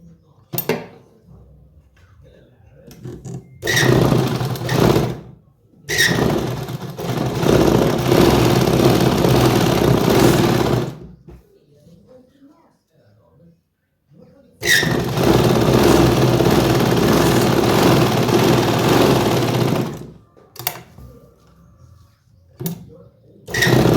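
A sewing machine runs in long bursts while stitching the back side of plazo pants, loud steady whirring broken by pauses, with a short run at the start and the end.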